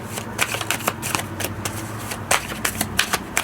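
Tarot cards being shuffled by hand, a close run of quick papery riffles and slaps in an uneven rhythm over a low background hum.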